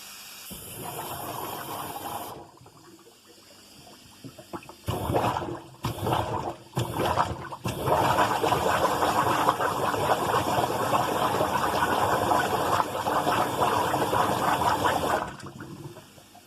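Air compressor blowing water through a clogged dishwasher drain line, with bursts of gushing, bubbling water that start and stop, then a long sustained rushing flow before cutting off.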